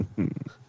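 A dog gives a short, low throaty growl that trails off into a faint whimper, close by and lasting under a second with no voices over it.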